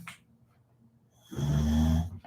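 A dog lets out a single deep, rumbling snore after a quiet stretch of soft breathing.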